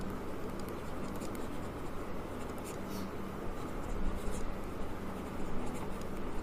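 Element symbols being chalked or marked on a classroom board for a chemistry lesson, a continuous scratchy scrawl with short stroke bursts over low room hiss.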